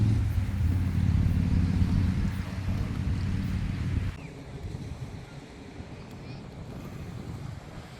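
Strong breeze on the open beach at Haulover Inlet, a steady low roar of wind buffeting the microphone, heavier for the first few seconds and then easing, with surf-like rumble beneath and no talking.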